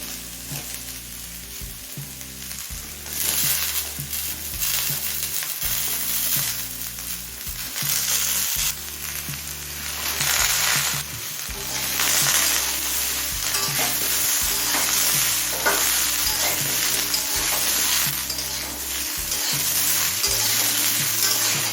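Mixed winter vegetables such as potato, radish and carrot fry in a pan with a loud, continuous sizzle, close up, and a recurring scrape and stir of a spatula throughout, with no voices.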